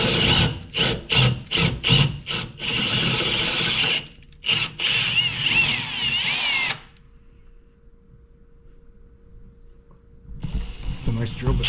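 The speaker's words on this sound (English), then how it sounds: "we're gonna drill the holes into the trailing arm and then match it back up" A power drill bores holes into a trailing arm guard for a 2024 Can-Am Maverick R Turbo skid plate install, whining loudly in repeated bursts, then going quiet before revving again, with talk in between.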